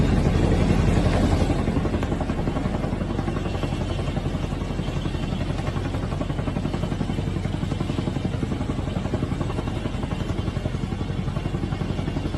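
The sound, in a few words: helicopter hovering low during a raid, from played footage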